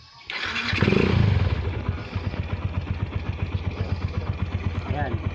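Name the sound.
Yamaha SZ motorcycle with Vmax exhaust pipe idling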